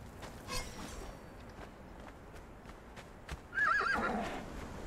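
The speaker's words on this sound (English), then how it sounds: "my horse is ready" In the game Conan Exiles a horse gives a short whinny near the end over soft ambient rustle and faint clicks, fairly close and moderately loud.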